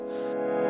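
A Lexicon-style reverb applied to a sample in a trap beat gives a short, sustained tonal chord with a washy, echoing tail, the bright upper shimmer cutting off partway through.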